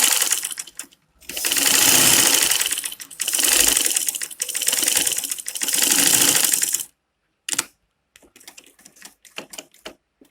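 A sewing machine stitches fabric for a face cap in four steady bursts of rapid needle chatter. Pauses separate the runs, and faint handling clicks follow once the stitching stops.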